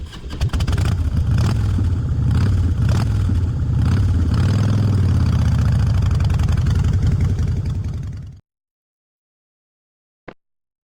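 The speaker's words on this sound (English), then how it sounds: "motorcycle," A motorcycle engine runs loud and close with a deep throbbing rumble that swells slightly, holds steady for several seconds, then stops, leaving one brief click afterward.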